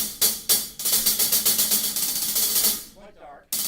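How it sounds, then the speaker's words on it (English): A stacked hi-hat, a 14-inch Byzance Jazz Series bottom over a sand ride bottom, plays a fast, even pattern of close sizzly strokes. The hi-hat briefly falls quiet near the end before a final hit. "I use a sand ride bottom on the bottom and Byzance Jazz Series hi-hat 14-inch bottom on the top"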